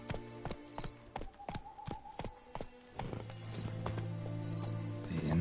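Hooves of Geralt's horse Roach clip-clop in The Witcher 3. There is a steady clattering gait, then a snort or whinny-like burst, followed by a lower sustained rumble as the hoofbeats continue.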